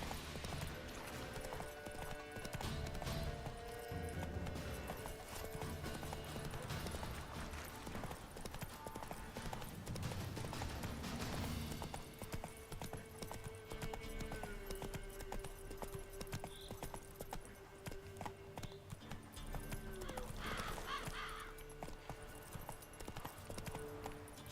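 Hooves of Roach, a horse in The Witcher 3: Wild Hunt on PS5, clip-clop steadily at a gallop for the whole stretch, loud and close over game music, with a brief whinny.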